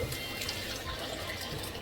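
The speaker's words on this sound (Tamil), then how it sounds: "புளி தண்ணியை அதில் ஊற்றிடலாம்" Tamarind water pours steadily into a pan of fish curry for a couple of seconds, a soft continuous splashing gurgle heard close up.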